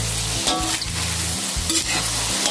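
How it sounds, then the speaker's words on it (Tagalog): Palabok sauce with oyster sauce is stirred in a hot pan: loud, continuous frying sizzle, close up, broken by repeated scraping strokes of the utensil, with no talk. "Kahaluan naman po natin."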